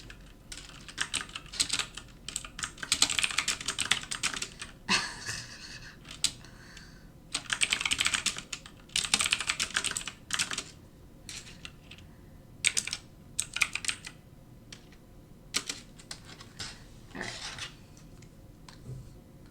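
Quiet computer keyboard typing during night futures trading, bursts of close, light key clicks in irregular clusters with short pauses between, no voices.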